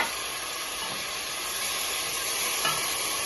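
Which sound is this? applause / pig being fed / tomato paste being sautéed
tomato paste being sautéed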